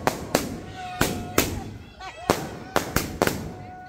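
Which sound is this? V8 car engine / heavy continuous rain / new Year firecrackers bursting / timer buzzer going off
new Year firecrackers bursting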